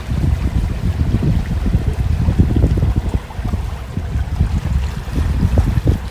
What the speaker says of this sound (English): Here we have a boat coming in the other direction.